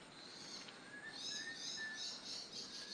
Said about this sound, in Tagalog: Masarap pakinggan yung mga huni ng ibon.